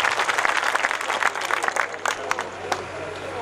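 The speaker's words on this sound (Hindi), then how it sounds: "एक दफा तालियां बजाएं आप सब" Crowd clapping at a mushaira poetry gathering in Tajpura, Saharanpur, a lively burst of applause from the audience with voices and calls mixed in, tapering slightly toward the end.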